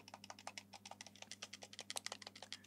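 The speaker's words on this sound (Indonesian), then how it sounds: "bahkan tombolnya pun ini kayak lagi pencet tombol controllernya gitu ya" Rapid series of small plastic clicks from controller-style buttons pressed on a handheld computer device, about two dozen quick presses in an uneven rhythm, close and quiet over a steady low electrical hum.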